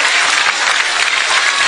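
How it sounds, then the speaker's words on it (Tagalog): A live audience applauds and cheers for a young child singer, with loud, dense, steady clapping that fills the whole stretch without a break. "Alam mo ba yung palakpak at sigaw ng mga tao yan?"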